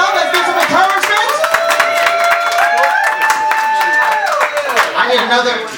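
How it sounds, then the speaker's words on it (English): A crowd at a community dance event in Newark claps for a performer, sharp claps scattered over loud music with sustained tones, with voices mixed in. "Clap it up, let's get some encouragement."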